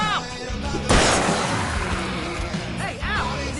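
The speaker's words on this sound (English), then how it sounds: "I can set off more of the fireworks from here and help you out!" Fireworks set off in Alan Wake Remastered: one heavy, loud blast with a ringing crackle, then distant pops and booms amid in-game sounds and a faint voice.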